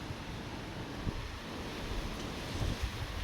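Wind blows outdoors and buffets the microphone in a steady low rumble with faint gusts, no voices heard.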